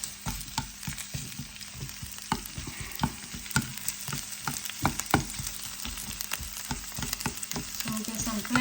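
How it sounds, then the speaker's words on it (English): Garlic, chili and onion fry briefly in a hot pan, giving a steady loud sizzle with frequent sharp crackles and pops throughout. "I'm going to just fry just very briefly."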